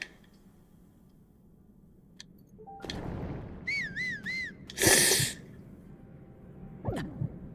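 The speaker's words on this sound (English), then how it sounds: "He somehow did not hear me whistle" A person whistles a short, wavering tune in a few quick warbling phrases midway, fairly near, over the low background hum and game sounds of Zelda play, with other brief noises and no talk.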